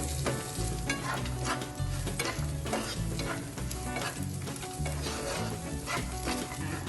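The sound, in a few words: vegetables and peas frying in a pan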